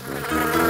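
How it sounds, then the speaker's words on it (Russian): A dense, steady buzzing of many bees, loud and close, swelling slightly as it goes with no voices over it. "Сюда целый рой пчел налетел."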